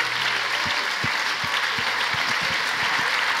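Continuous applause from a seminar crowd honouring former members, a dense wash of clapping with a few louder individual claps standing out near the front.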